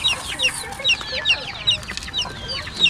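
Chickens and small chicks cluck and peep near the microphone in a rapid, irregular chatter of short calls, with high chick cheeps layered over the lower hen clucks.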